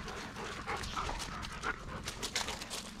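Dogs panting close by while playing, quick rhythmic breaths with small whimpers and yips over a few seconds, no talking.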